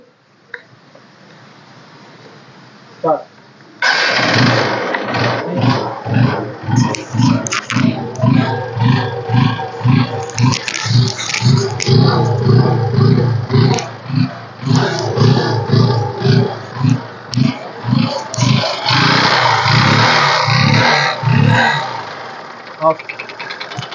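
A used 2013 motorcycle engine is started after a short quiet stretch, then idles and revs loudly and close up with a steady, throbbing pulse that rises and falls repeatedly before cutting off near the end.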